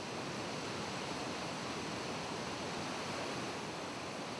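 Steady, dense rush of flowing water, continuous and even throughout with no pauses, fairly loud and close, with no voices.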